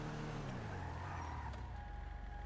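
A video game car engine idles and hums with a low rumble, faint tonal whines drifting above it, continuous and unchanging throughout.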